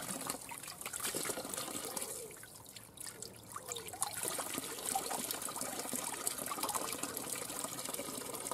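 Water trickles steadily from a natural spring in the woods near Jílové, a continuous close splashing and dribbling with no voices.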